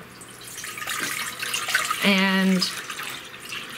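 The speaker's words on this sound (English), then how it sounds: "I put the water in the pot" Water is poured into a cooking pot to cook wild rice. A brief run of liquid with a rising, ringing tone is heard close by, and a voice speaks briefly around it.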